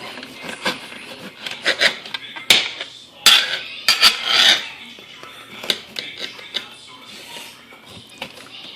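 A knife cuts through a freshly fried Guyanese bake with a crispy bottom, giving scattered crunchy rasps and taps of the blade against a plate or board. The sounds come close and at moderate loudness in short bursts.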